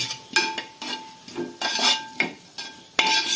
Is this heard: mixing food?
yes